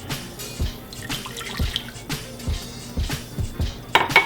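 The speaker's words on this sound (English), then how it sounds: "Going to begin with about 3/4 cup of warm water." Warm water pours into a mixing bowl for hamburger bun dough, heard as close, intermittent splashes and trickles with a few louder drips near the end.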